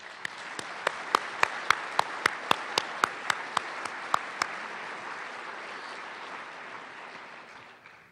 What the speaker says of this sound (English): How about giving your board of directors, your executive director, John Leonard, yourselves a big round of applause.